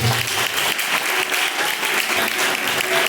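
A church congregation at a live worship service claps in praise, a loud, even roar of many hands held throughout without pause.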